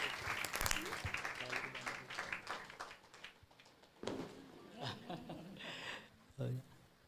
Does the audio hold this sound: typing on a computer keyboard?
no